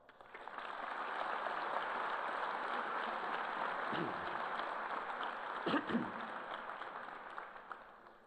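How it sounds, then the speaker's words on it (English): Graduates and guests applaud at an undergraduate commencement ceremony, a broad wash of clapping that swells and holds steady for several seconds, with brief voices or movement cutting through near the end. "Give yourselves a round of applause."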